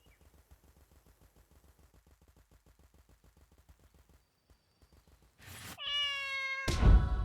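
A pine marten calls in the video game The Good Life, a few sharp harmonic yelps close up and loud after a stretch of faint rhythmic ticking, ending in a harsh noisy burst.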